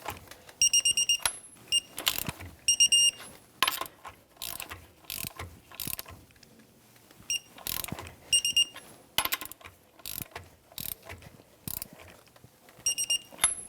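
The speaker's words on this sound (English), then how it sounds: "So before we torque this, I'll tell you the manufacturer's spec is 85 to 115 foot-pounds." A torque wrench ratchets while tightening bolts in a crisscross pattern on a 1997-2006 Jeep Wrangler during a leveling kit install. Repeated bursts of sharp metallic clicking alternate with short pauses, close and moderately loud, with no talking.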